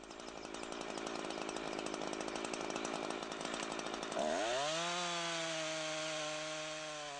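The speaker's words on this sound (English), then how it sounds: "Give the saw full throttle and start sawing" A chainsaw runs at full throttle while felling a tree: a loud, close, steady buzzing cut that rises in pitch as the engine revs up near the end. No voices are heard.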